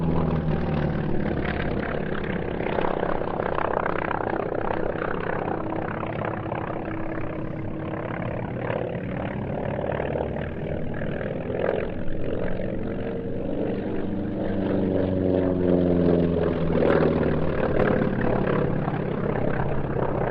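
Grumman WWII fighter's propeller engine drones steadily through a flight display, a loud continuous roar with shifting harmonic tones as the aircraft passes, sustained throughout without pause.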